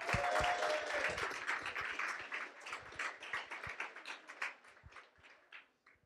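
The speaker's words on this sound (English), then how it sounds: "let's give her a round of applause" Applause from an audience at a tech conference talk, brisk clapping that starts full and thins out gradually into scattered last claps.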